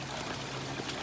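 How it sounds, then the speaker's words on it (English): A spring-fed creek flows and burbles steadily in a brief stretch, a continuous close stream with no voices. "This is a spring-fed creek."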